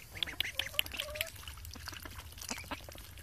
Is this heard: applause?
no